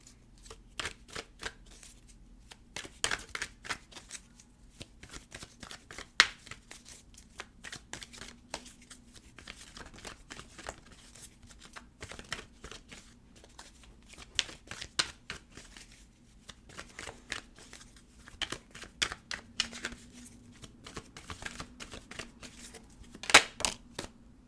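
Tarot cards being shuffled and drawn for a reading, a steady run of soft papery riffles and flicks with a few sharper snaps, close and fairly quiet, with no talking over it.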